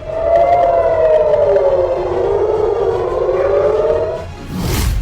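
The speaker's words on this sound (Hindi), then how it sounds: "हर तरफ सायरन बज रहे हैं।" Air raid sirens wail across an Israeli city after a barrage of rocket attacks, a loud, steady drawn-out tone sliding slowly down in pitch, then fading out into a rush of noise at the end.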